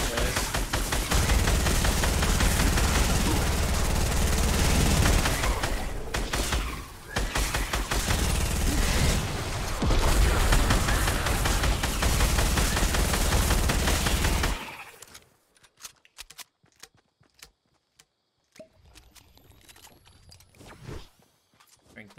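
Dense, loud gunfire from a Fortnite Battle Royale zombies match fills the first fifteen seconds as near continuous shots, then drops to scattered faint clicks and taps, with voices talking at times.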